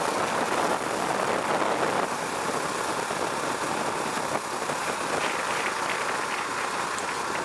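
A Husqvarna Vitpilen 701 motorcycle engine drones steadily while riding with a quick shifter, a continuous broadband engine rumble mixed with wind rush, loud and unbroken with no talking.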